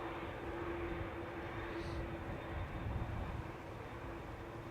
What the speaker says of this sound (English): TUC is just taxiing out now